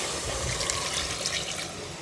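Water is poured steadily into a pan of sautéed chicken for a Tamil-style chicken curry, a continuous close splashing gush with no talk.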